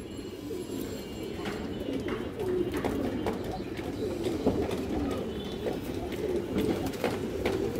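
Pigeons coo in soft, repeated low throaty phrases, close by and continuous against a busy background of faint chirps and shuffling.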